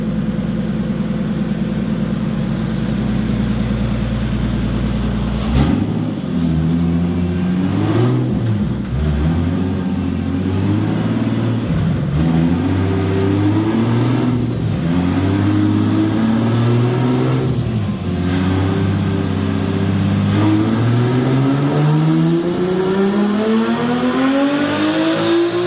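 Turbocharged Toyota 2JZ engine being tuned for a Formula D drift event, revving repeatedly in loud bursts that climb and fall, ending in a long rising rev, heard up close with no talking.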